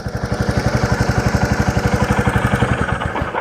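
A Royal Enfield BS6 motorcycle engine runs close by at a steady idle during RPM adjustment, its single-cylinder thump beating in an even, rapid pulse with mechanical clatter on top and no talk.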